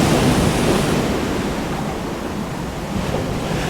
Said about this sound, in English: the waves were only getting bigger, and the rain only heavier